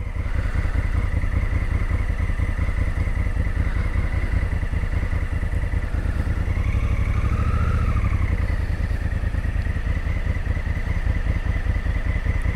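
A small tractor chugs past near the Lago Gioveretto dam in Italy, its engine a steady, fast-pulsing thrum at close range that rises slightly midway and keeps going throughout.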